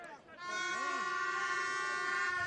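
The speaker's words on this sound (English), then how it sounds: "And the air horns back out for this second half. I'm glad to hear." A loud sustained air horn blares continuously at a football match, tonal and steady, with brief talk at the start.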